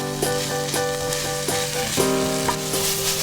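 Chickpeas and chard sizzling in a pan with olive oil and lemon, with steady frying hiss and regular metallic scrapes and clinks of tossing, close and without talk.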